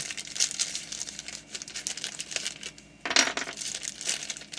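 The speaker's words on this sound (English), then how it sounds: "what I'm going to do is take out some of these Allen keys so we can use them" Allen keys taken out of the box of a Smart Parts Impulse paintball gun clink and jingle like small metal pieces, with crinkling packaging throughout and a sharper rattle near the end, close up.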